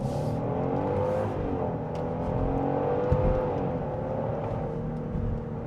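A 2026 Genesis GV70 Sport Prestige 3.5T SUV accelerates hard at full throttle on a highway, its engine note rising steadily under a continuous loud road and wind roar heard from inside the cabin.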